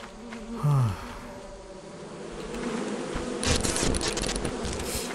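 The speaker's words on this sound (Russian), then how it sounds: "Электрические пчелы." Electric bees from a beehive in the video game Lethal Company give off a steady, droning buzz. It stays under a short burst of other game noise and swells louder toward the end.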